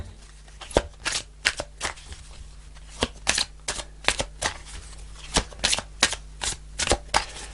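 Tarot angel answer cards being shuffled by hand during a card reading, a steady series of crisp riffling bursts and soft slaps repeating every half second or so, close and clear with no talking.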